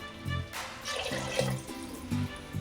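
Water poured from a tumbler into a cooking pot of rice for pulao, a short, fairly faint splashing trickle heard close by.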